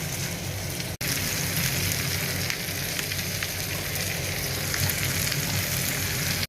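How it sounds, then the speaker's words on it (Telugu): Amaranth leaves with their stems frying in butter with no oil, giving a loud, continuous dense sizzle like heavy rain, close up and unbroken apart from one brief cut near the start. "ఇప్పుడు కడిగి పెట్టుకున్న తోటకూర వేసుకున్నామండి. అస్సలు నూనె వేయలేదండి, వెన్నతోటి చేస్తున్నాను."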